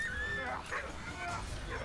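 Dog whimpering and yipping in the WWI video game Valiant Hearts: The Great War, a few short high whines over game sound with someone talking.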